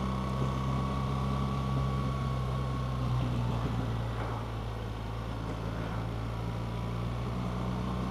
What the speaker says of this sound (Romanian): Motorul trage super liniar și calm.